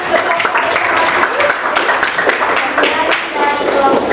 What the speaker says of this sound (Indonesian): Kalau gitu kita tepuk tangan, kasih aplaus untuk kelompok rendah